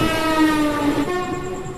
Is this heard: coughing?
no